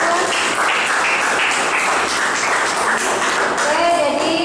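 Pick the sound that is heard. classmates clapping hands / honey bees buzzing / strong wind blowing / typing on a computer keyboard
classmates clapping hands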